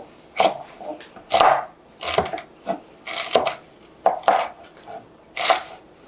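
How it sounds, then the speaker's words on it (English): A knife chopping celery into small pieces on a board, bursts of quick thudding cuts in an uneven rhythm, close and loud, with no voices. "just chop them so that we don't have any large pieces"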